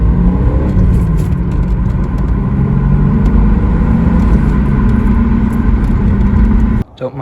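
Close, steady rumble of a 2001 VW Jetta MK4 running during a test drive after rear brake work, a continuous loud drone that cuts off abruptly near the end, then leaves a couple of brief thumps.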